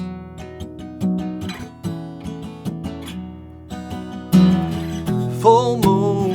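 Palm-muted acoustic guitar strummed lightly near the bridge, a steady run of short, damped chord strokes, close and alone, opening out into brighter, ringing strums near the end.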